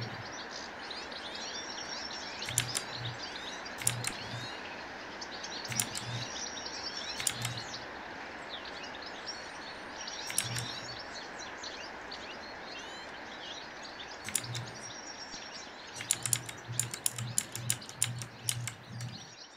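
Birds chirp in repeated bursts of sharp, high tweets, moderately close, over a steady outdoor background, with a cluster of rapid calls near the end.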